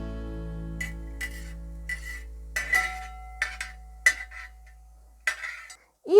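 A spoon lifts fried coconut pieces out of hot ghee in a pan, giving a handful of sharp, scattered metallic clinks and taps in an otherwise quiet kitchen, with a louder scrape at the end.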